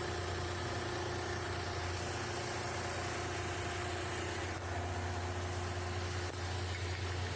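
A DC series motor runs steadily at 1780 rpm on a lab test bench, giving off a constant low hum with a faint mechanical whine that stays even throughout, with no talk.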